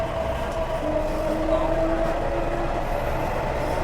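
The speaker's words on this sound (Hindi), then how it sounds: "ये अंडरग्राउंड मेट्रो है।" Delhi underground metro train running through a tunnel, a steady rumbling roar with a sustained whining tone rising and holding mid-clip, continuous and fairly loud from inside the carriage.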